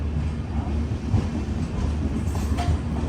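The Garib Rath Express rolls into New Haflong station in a steady, loud rumble of wheels and carriages, with a faint rhythmic clatter throughout and no voices.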